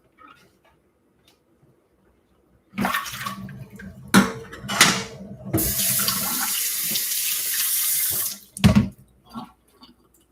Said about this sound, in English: you can rinse it with tap water